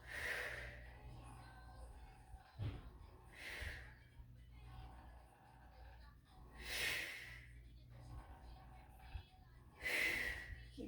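Steady inhale and exhale breathing through a resistance band Pilates exercise, with several loud, breathy exhalations in a slow, even rhythm over soft music at a low hum.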